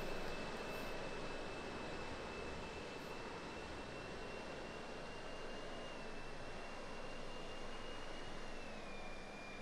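A simulated RC airplane flying in the Real Flight 9.5 simulator, with smoke on and landing gear retracted, gives a steady, quiet engine whine with a thin high tone that holds throughout, with no talking.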